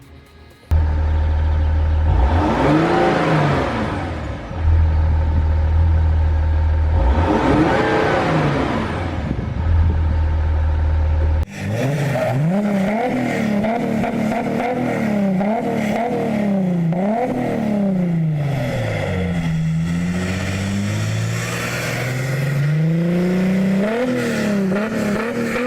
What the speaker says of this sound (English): I might also do something about the exhaust, because these things can sound pretty good for a diesel